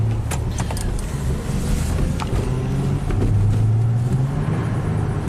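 A Nissan car with a misfire, driven on a wet road under load, gives a steady low engine rumble with drifting tones and occasional clicks and knocks, close and continuous, with no talking.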